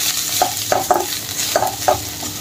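Amchur, cumin, coriander and red chilli powders sautéing in a pan for bitter gourd bhaji, a steady sizzle broken by several spoon strokes scraping and tapping the pan at an uneven rhythm, close by.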